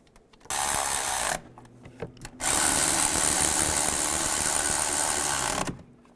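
A power tool tightens exhaust manifold studs on a 2002-2009 Chevrolet Trailblazer, with a short whirring burst followed after a pause by a longer, steady, close-up run that ends abruptly.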